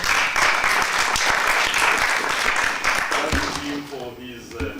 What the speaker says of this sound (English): Let's give a clap for Dr.